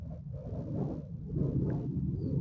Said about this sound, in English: you can hear the noise of thundering and lightning